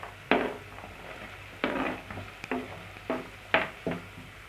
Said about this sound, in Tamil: வெங்காயம் வதக்கி விட்டுட்டே இருங்க